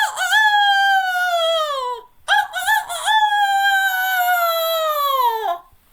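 A person's voice imitates a rooster's cock-a-doodle-doo in two long, loud, drawn-out crows separated by a short gap, close and alone.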